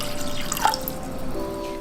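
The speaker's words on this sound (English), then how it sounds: "firstly, we're going to add about 500 milliliters of water." Water poured from a tap into a container for salted egg brine, a close, steady splashing trickle with drips that fades slightly toward the end.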